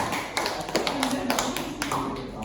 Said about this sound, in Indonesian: Tepuk tangan juga.